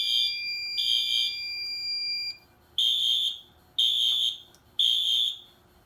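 A fire alarm panel sounding, with a loud shrill electronic horn blaring in long pulses, then stopping and restarting in several shorter bursts, close and without talk.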